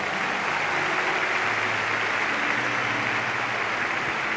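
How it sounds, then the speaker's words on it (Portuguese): A crowd at a Brazilian church gathering applauds steadily and densely, a sustained wash of clapping with no pauses, fairly distant and even in loudness. "forte aplauso para quem veio de fora do país"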